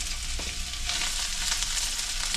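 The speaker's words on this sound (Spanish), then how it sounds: "Y ya que esté un poco caliente, agregan la cebolla para sofreír la cebolla un poco." Onion sautés in hot oil in a pan for tinga de res, a dense continuous sizzle with a few brief crackles and the soft scrape of stirring, close and without talk.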